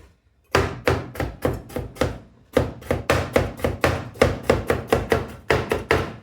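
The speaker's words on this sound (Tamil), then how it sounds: "நான் முதல்ல இந்த கேரட் தான் வெட்ட போகிறேன்" A knife chops carrots on a cutting board for a vegetable soup, in a steady run of about twenty crisp, close thunks in quick regular rhythm, with one brief pause near the start.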